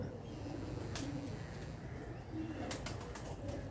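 High-flyer pigeons kept in a Karachi loft coo softly a few times against a steady background hum, with faint low calls and a brief flutter of wings.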